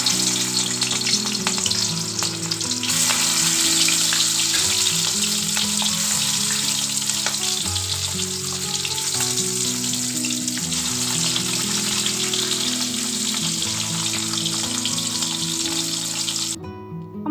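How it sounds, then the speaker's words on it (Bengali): Pieces of rohu fish, rubbed with salt and turmeric, frying in hot oil in a Bengali mustard rohu dish, giving a steady, loud, dense sizzle and crackle that runs unbroken for the whole stretch with no talking. "তেল গরম হয়ে গেছে, এবার এর মধ্যে আমি একে একে মাছগুলো ভেজে নেব।"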